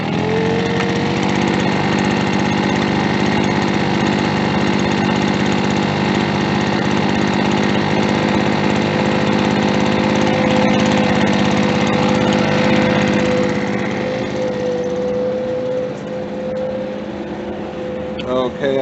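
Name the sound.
VEHPRO gas leaf blower engine running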